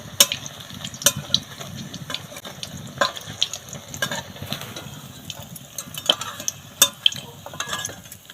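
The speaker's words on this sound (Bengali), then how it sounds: "এ পিঠটা একটু ভাজা হয়ে গেছে ওই পিঠটা একটু ভেজে নেবো" Cauliflower paneer fries in hot oil with a steady close sizzle, while a utensil scrapes and clicks against the pan every second or so.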